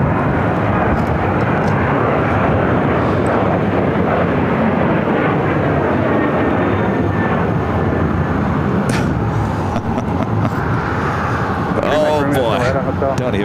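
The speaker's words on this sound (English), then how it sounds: "United Airlines Flight 2398 heading to Dulles, 737-900 ER up next." A United Airlines Boeing 737-900ER airliner at Phoenix airport gives off a loud, continuous jet engine roar that fills the whole stretch, with a voice talking over it.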